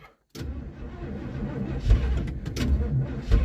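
Classic car engine, one of a 1958 Imperial Hemi or a 1957 DeSoto hot rod, cranks over and catches after a short silence, a rough uneven rumble with choppy surges under faint background noise.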